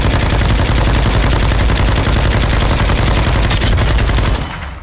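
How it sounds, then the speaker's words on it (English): Sustained loud gunfire from Call of Duty Modern Warfare 2, with light machine gun bursts and rocket launcher blasts pounding continuously for several seconds before cutting off at the end. "Rocket launcher, do another rocket launcher, and just peg him with LMG."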